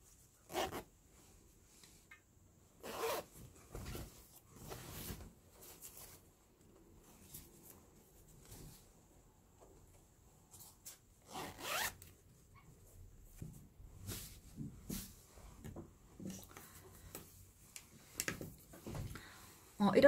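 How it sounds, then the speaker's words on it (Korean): A zipper is pulled up along sewn fabric during an invisible-zipper sewing job, with short scratchy zipping bursts scattered among quiet handling noises and speech heard in between. "지퍼를 올려보도록 하겠습니다."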